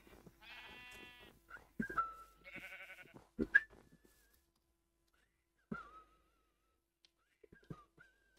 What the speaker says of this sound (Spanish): Ay, mira, ahora hay tropecientas mil ovejas.